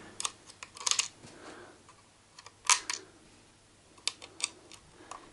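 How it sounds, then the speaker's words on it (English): Screws being fitted back into a PS3 fat model power supply: a series of sharp clicks and small metallic taps in irregular bursts, close and fairly faint, with no talking. "I'm just going to put the screws in back in position on the power supply."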